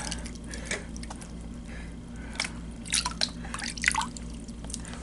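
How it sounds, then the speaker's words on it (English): Water dripping and trickling as a gold pan used for panning pay dirt is emptied, a scattered run of small drips and splashes that grows busier toward the end, close and fairly quiet over a low background hum. "What I'm going to do here is I'm going to empty this pan"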